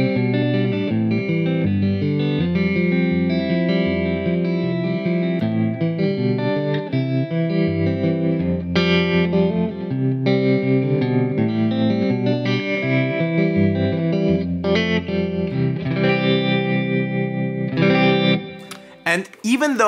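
Distorted electric guitar, a Fender Jazzmaster, plays continuous riffs, thick and buzzy with chorus-like shimmer and reverb, loud and sustained before a brief sharp scrape at the end.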